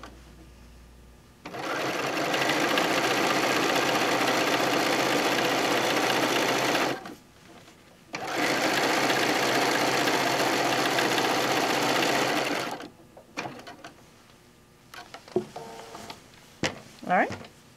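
Sewing machine running steadily while stitching a decorative edge, two long continuous bursts of motor hum and needle chatter separated by a brief pause, then stopping with a few clicks and handling sounds.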